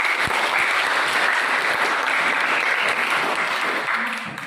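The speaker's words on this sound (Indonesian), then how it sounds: "Ya, kita berikan aplaus." Classroom audience applause during a Christian religious education lesson: a sustained wash of clapping from a group, steady and fairly loud, fading slightly at the end with no voices over it.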